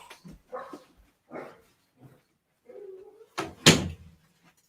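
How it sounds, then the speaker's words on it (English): A household dog barks indoors in a few short, loud bursts near the end, with a door thud among them, following quieter scattered household movement. "There goes the dog."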